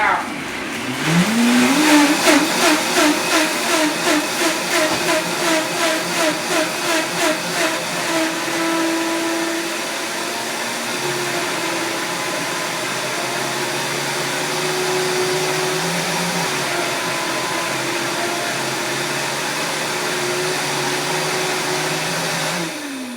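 Blender running at full speed on sea moss gel, a loud continuous motor whir that pulses and labors early, then settles into a steady roar; a voice speaks briefly over it.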